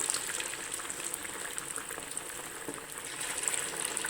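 Marinated chicken lollipops deep-frying in hot oil, a dense, steady bubbling sizzle that runs evenly throughout with no voices.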